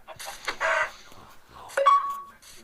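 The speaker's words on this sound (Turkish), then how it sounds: "Tavuk. Tavuk." A Minecraft chicken gives a few short clucks in quick bursts, close and clear, with no talk over them.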